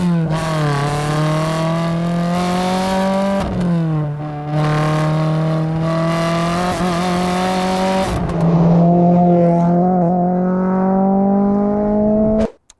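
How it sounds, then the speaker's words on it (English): A Renault Clio RS 197 with an aftermarket exhaust revs hard and close, its engine note climbing repeatedly through strong, buzzy rises with brief dips between pulls before cutting off abruptly at the end. "It's quite loud, this car. The owner has put an exhaust on it."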